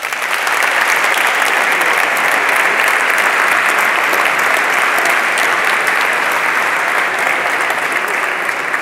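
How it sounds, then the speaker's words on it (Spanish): Dense, sustained applause from a large audience at the presentation of the 2024 Burgos bullfighting fair posters, loud and continuous throughout with no speech over it. "Y se merece un aplauso, ¿no?"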